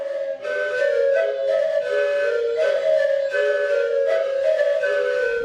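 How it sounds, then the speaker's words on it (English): A Kalinga bamboo panpipe, the sugaypo, a set of three to six bamboo tubes blown at their open ends, plays breathy whistling tones in short repeated phrases, close and fairly loud, with no talk. "The panpipe, popularly called sugaypo, is a set of 3 to 6 bamboo tubes, blown into at their open ends,"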